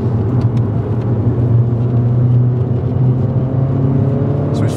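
Engine rumble from a turbocharged Mini Cooper JCW GP2 driving on a B-road, a steady loud drone heard from inside the car with little change in pitch.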